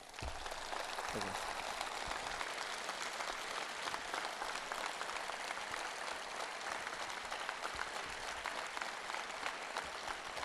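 Audience applause at the KKSC Sport Gala 2015, honouring martyrs and their heirs, a continuous, even wash of many hands clapping that stays quite distant and faint throughout, with possible murmurs mixed in.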